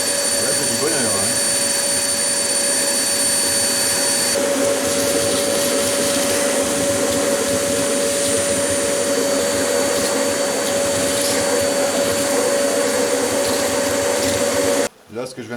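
Vacuum cleaner with a nozzle attachment sucking bees out of a giant wild nest during a removal at a château, a loud steady motor whine and roar running continuously before cutting off abruptly near the end.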